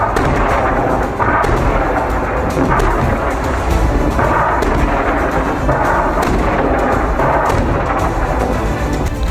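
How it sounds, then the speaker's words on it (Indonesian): Rocket and artillery fire in a combat zone in southern Lebanon, a continuous rumbling barrage of booms and crackling blasts. Loud and dense throughout, with no voices. "Serangan roket dan peluru artileri Hizbullah menyasar konsentrasi pasukan Israel."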